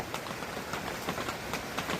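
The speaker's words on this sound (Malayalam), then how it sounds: "രാവിലെ നല്ല മഴ കേട്ടോ." Steady morning rain falls on surfaces nearby, a soft continuous patter with scattered drop hits and no voices.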